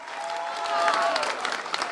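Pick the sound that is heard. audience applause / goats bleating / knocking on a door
audience applause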